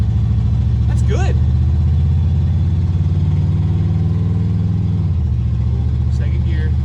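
An old Pontiac Phoenix, left sitting for over twenty years, accelerating on the road: a loud, close engine drone rising in pitch, then dropping sharply as the gear shifts, with a voice talking over it.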